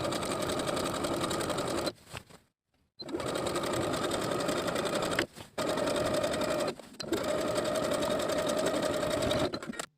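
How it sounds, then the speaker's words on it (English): A sewing machine edge stitching close to the inner fold of a hem on a top, running in steady loud bursts with two short pauses between stitching runs. "edge stitch close to the inner fold all the way around to create the hem"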